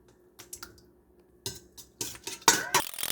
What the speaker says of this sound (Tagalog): in mixing bowl, first we're gonna do is we will beat these 5 eggs.